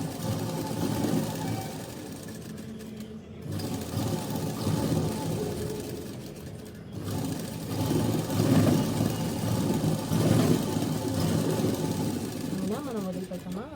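A sewing machine stitches a plain cotton blouse with a steady mechanical whirring hum that runs almost nonstop, pausing briefly twice, while someone talks over it.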